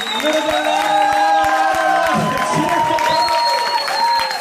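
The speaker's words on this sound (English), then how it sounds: "Just a huge round of applause." Audience at a comedy course show giving a round of applause, loud clapping mixed with cheering and whoops from the crowd, sustained for several seconds.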